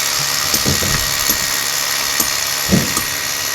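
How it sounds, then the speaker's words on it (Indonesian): A constant high-pitched whine of a power drill boring holes in stone runs throughout, with scattered knocks and thuds from the work nearby. "Jadi nanti dilubangin pakai bor"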